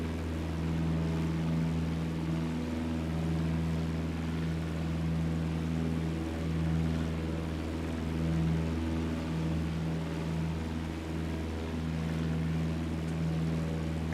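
A Piper PA-28 Warrior II single-engine propeller plane drones in Microsoft Flight Simulator. The engine holds a constant, steady hum with strong low harmonics for the whole stretch, with no talking over it.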